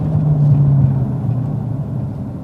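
Car engine rumbling steadily close by during rev-matched downshifting, a low droning tone that dips slightly in pitch after an early throttle blip.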